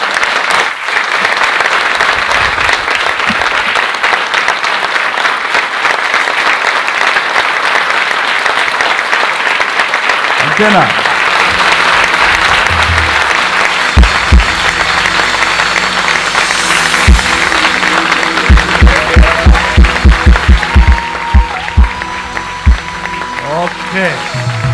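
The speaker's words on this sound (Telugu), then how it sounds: "సంతోషంగా ఉన్నవాళ్ళు చప్పట్లు కొట్టండి." A church congregation claps together, a broad wash of applause that swells and then thins into scattered, sharper claps near the end, with a voice speaking briefly over it.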